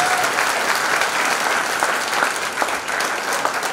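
Steady applause from a theatre audience welcoming a performer after a stage play, a dense, continuous patter of many hands at moderate distance lasting throughout, with faint crowd murmur beneath.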